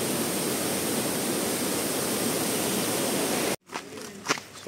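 Arjunkada waterfall near Kharghar pours as a loud, steady rushing roar for most of the moment, then cuts off abruptly into quieter surroundings with faint sounds.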